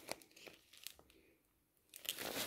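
A plastic bag holding a cross-stitch kit with thread, wool and canvas crinkles and crackles in short bursts up close, quieting briefly before a louder rustle at the end.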